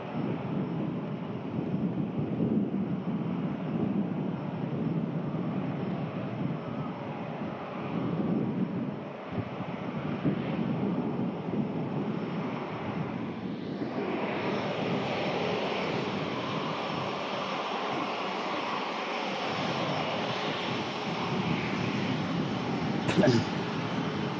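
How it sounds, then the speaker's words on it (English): An airliner takes an intersection departure at Manchester Airport, its engine roar steady and broad, swelling louder about midway through, with wind buffeting the microphone throughout. "Right now, taking an intersection departure."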